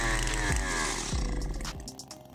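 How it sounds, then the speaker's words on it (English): A McCulloch 797 chainsaw with a geared motor and 5/8 inch chain cuts into wood, its engine note roaring loud and close, shifting in pitch as the bar bites through. "The McCulloch 797 chainsaw is equipped with a powerful 123C geared motor"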